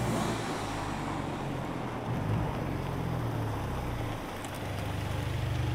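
A steady low engine rumble from a Mustang runs throughout, idling close by with a slight swell partway through and no voices.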